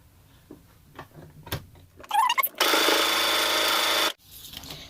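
Brother sewing machine stitching buttonholes on a vest, with a few handling clicks and taps before a loud, steady burst of rapid stitching for about a second and a half, then quieter fabric handling.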